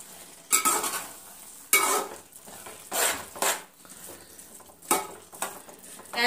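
Maggi noodles with lemon stirred in a pan, giving several separate scraping, sizzling stirring strokes at an uneven pace, close and fairly clear with no talk.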